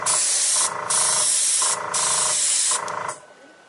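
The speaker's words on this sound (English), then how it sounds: "Now I'm going to just airbrush the leaves for the tree." Airbrush spraying paint onto a pasta decoration in three close hissing bursts of about a second each, separated by short pauses, loud and steady, then fading out with no speech.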